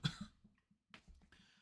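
A person gives a demonstration cough during instruction in Kinpu-ryu komi-buki breathing technique: a sharp close burst followed by a brief second expulsion after a short pause, alone with no talk.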